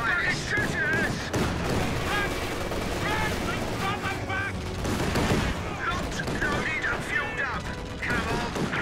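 Gunfire rattles at tanks during a Company of Heroes 2 4v4 tank battle, with bursts of machine-gun fire, heavy shots and clanking mechanisms blending into a dense, continuous barrage under radio-style voice chatter.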